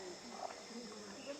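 Amazon rainforest in Peru at sunset, with a steady, dense chorus of insects and birds buzzing and chirping in the background, faint and continuous throughout.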